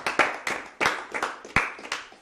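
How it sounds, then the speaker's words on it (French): A few sharp hand claps, four or five spaced irregularly, near and fairly loud in a quiet room. "C'est vrai, j'applaudis, bravo."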